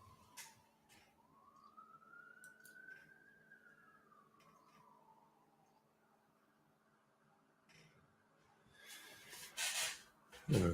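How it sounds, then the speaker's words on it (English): A single siren wails faintly in the distance, sliding up and then slowly back down, with a few clicks and rustles nearby toward the end. "You guys hear that siren outside"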